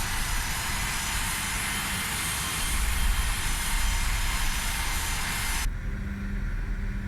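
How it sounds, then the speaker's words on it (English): Jet engines of an Aerosoft CRJ regional airliner in Microsoft Flight Simulator 2024, heard as a steady loud broadband roar that holds evenly, then loses its upper hiss abruptly near the end, leaving a low rumble. "good engine starts"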